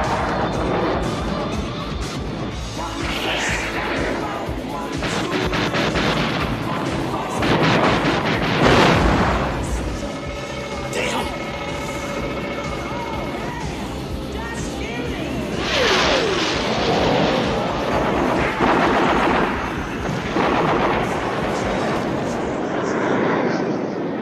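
Heavy guns boom and rumble in the DCS combat flight game, a loud, sustained barrage of explosive reports blended with a continuous aircraft engine drone, with occasional voices talking over it.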